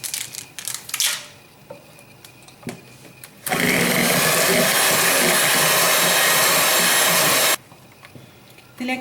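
An electric beater whirs steadily for about four seconds, mixing black forest cake batter after oil is added, loud and close, with quieter kitchen handling sounds before and after.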